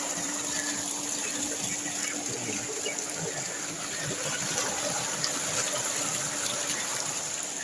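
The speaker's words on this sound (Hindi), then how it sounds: "और फसल को पानी लगाया है।" Steady rushing irrigation water flows into a crop field without pause, a broad even wash of sound with a faint hum underneath and no talking.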